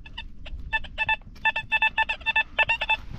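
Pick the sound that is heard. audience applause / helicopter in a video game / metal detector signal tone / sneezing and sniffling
metal detector signal tone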